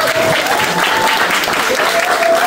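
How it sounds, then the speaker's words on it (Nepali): Guests clap steadily through a wedding ceremony, a dense, continuous wash of applause from a gathered crowd, with a faint tone and some murmuring voices underneath. "ताली बजाइदिनु होला।"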